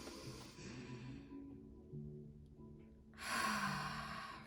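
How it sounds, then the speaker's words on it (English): A deep, slow breath drawn in and released during a guided relaxation, with a soft airy inhale under faint background hum, then a louder breathy exhale rushing out close to the microphone. "Release it and take a deep breath in with me."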